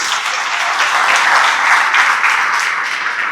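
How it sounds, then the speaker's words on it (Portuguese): Steady applause from a church congregation at a Sunday service, greeting baptism candidates; dense, continuous clapping from many hands, fairly loud and sustained without a break. "uma salva de palmas para os nossos batizandos"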